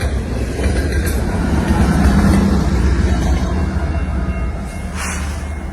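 A freight train hauled by locomotives, including a former GATX GP38-2, rumbles loudly past at Pine Orchard. The steady roar of wheels and cars holds close throughout, with faint rail clatter and no voices.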